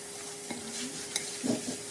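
Chicken pieces in marinade are stirred and mixed in a bowl, with a few soft wet squelches and light clinks against the container over a quiet background.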